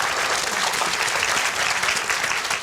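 Loud, dense applause from a studio audience on a Korean TV education show, a continuous wash of many hands clapping close up throughout the short burst.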